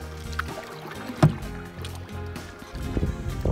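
Canoe paddle strokes splash and knock against the hull on a lake in Temagami backcountry, with a sharp thump near the middle, under steady gusting wind noise and low water wash, close to the paddler.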